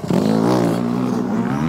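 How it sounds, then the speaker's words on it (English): Motorbikes pass close by with a loud, rising engine note that peaks and then trails off as they move past, heard alone for under two seconds. "Here comes some more bikes."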